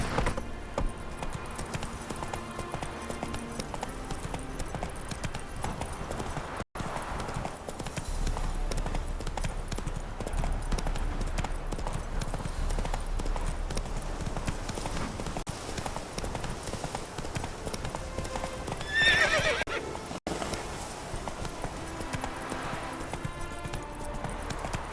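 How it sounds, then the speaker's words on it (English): Hooves of Roach, a horse in The Witcher video game, clip-clop in a steady galloping rhythm throughout, loud and close, with a short high whinny near the end. "Whoa there, Roach."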